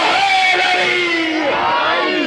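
A large crowd at a Shia majlis in Sialkot raises loud religious slogans together, a sustained roaring chant filling the hall, close and intense.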